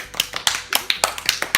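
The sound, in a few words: round of applause, clapping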